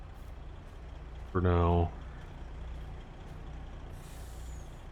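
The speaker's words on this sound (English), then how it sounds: "We'll get this truck turned around, get it off the field" A tractor-trailer truck turning around in a field in Farming Simulator lets out a loud, short hiss of air brakes that sweeps down in pitch, then settles under a low engine rumble. A voice speaks briefly.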